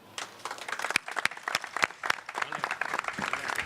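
A crowd at a city anniversary ceremony in Brusque breaks into applause for the mayor, uneven clapping with sharp individual claps standing out, rising and settling over a few seconds.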